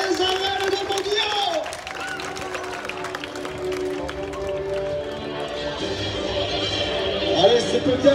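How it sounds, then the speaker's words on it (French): Spectators clapping in the stands of an arena during a contest at Mauguio, a steady wash of applause and crowd noise running under a commentator's amplified voice and music. "on peut les encourager, on peut les applaudir"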